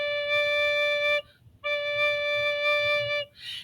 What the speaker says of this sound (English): So the low D sounds like this.